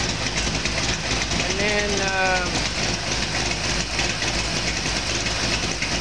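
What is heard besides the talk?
Ford 482 cubic inch side-oiler V8 engine running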